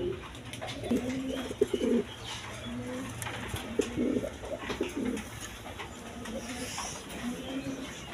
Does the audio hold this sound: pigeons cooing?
yes